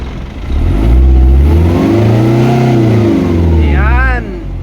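Isuzu 4HL1 diesel engine with a low-power fault revving up toward 4,000 RPM, a loud close roar that climbs and holds before dropping back near the end.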